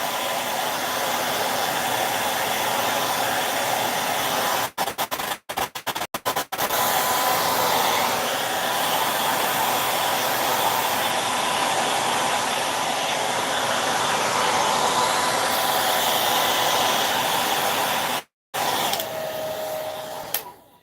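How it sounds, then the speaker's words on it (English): A hair dryer blows continuously on fresh paint on a garage sign, a loud steady whir broken by a few quick switch cutouts midway and one brief stop near the end before it resumes. "I hate to get the hairdryer out, but sometimes you got to do what you got to do."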